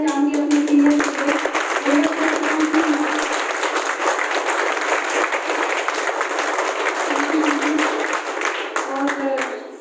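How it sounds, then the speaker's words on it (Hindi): Hearty audience applause for a senior colleague at a public gathering in Karnal, steady dense clapping through the whole stretch, with a voice briefly heard near the start and end over the crowd. "मैं एक बार आप जोरदार दिल खोल के तालियां चाहूंगी अपने सीनियर को"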